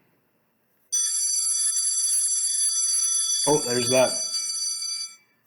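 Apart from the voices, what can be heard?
bell ringing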